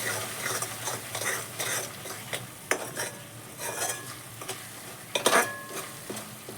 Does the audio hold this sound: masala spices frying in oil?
yes